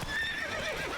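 Roach the horse whinnies and neighs up close over a steady clip-clop of hooves in a video game, loud and continuous for a brief moment with no talk.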